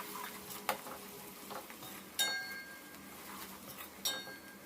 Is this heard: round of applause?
no